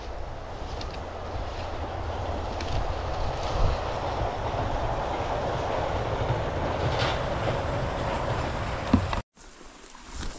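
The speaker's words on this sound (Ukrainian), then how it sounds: "Знову лісовоз їде по дереву." Logging truck rumbling past on a forest road in Sweden, a steady loud drone with rattling and clattering that holds for about nine seconds before cutting off abruptly.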